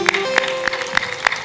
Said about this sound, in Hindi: मुस्करा दो, ताली बजा दो।